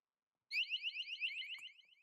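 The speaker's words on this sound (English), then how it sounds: "Now that is a 120 decibel alarm sound." A loud, shrill 120-decibel water leak detector alarm, set off with its test button, starts abruptly and warbles rapidly in a high pitch, with a brief click partway through, then begins to fade.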